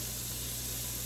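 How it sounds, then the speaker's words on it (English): Onions sautéing in a pan for pasta fagioli, a steady dense sizzling hiss, close and continuous with no talk. "we're going to saute this about 3 or 4 more minutes until the onions start to soften up"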